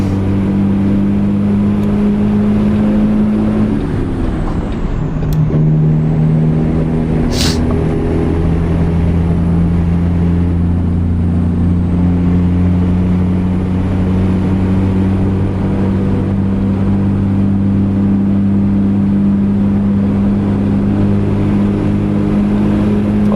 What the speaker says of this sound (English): Engine does sound pretty good